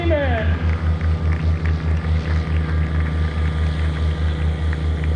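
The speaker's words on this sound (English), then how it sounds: "we just saw the Sling take off" A Sling TSi light propeller airplane at an airshow drones steadily with a pulsing, throbbing engine note, fairly close and loud, while an announcer's voice talks over it.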